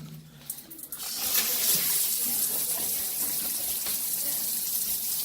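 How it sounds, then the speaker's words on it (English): A Flexispray Bermuda II hand shower sprays strongly with its water saver on: a quiet start gives way to a sudden, steady close-up hiss and rush of water that continues to the end. "So there is the spray. The water is quite strong, even with the water saver on this one."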